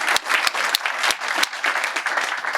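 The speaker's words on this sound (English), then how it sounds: "We can clap for that" An audience at a county executive campaign event breaks into brief, steady applause, many hands clapping together in a room with no voices over it.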